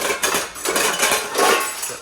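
Metal pots, pans and cutlery clatter and clank continuously as hands rummage through a tray of kitchen utensils in search of a frying pan, a close, busy jumble of knocks and scrapes with no voices.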